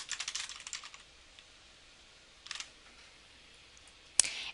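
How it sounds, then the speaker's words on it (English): Someone types on a computer keyboard, a quick burst of close clicking keys at the start, then a short cluster later and one sharp final keystroke, with quiet gaps between. "we can type in sales by territory"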